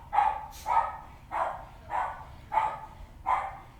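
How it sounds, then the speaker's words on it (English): A dog barks six times in a steady, evenly spaced series, moderately close and clear over a low background hum, with no talking. "listening to that dog now for ideas, see if that barking's giving me any clues"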